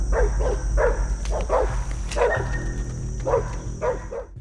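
Hunting dogs bark in rapid, repeated bursts, several sharp barks close together with brief gaps, loud and near over a steady background hum.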